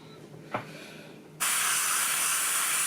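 An aerosol spray can sprays paint onto a 1/16 scale StuG III model kit. A small click comes first, then a loud, steady hiss of spray bursts in and runs to the end.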